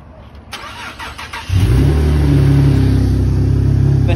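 A Chevrolet Corvette engine cranks over and catches with a loud, close bark, then settles into a steady, throaty rumble with light revving; the car may have a muffler delete. A few clicks and rustles come before it starts.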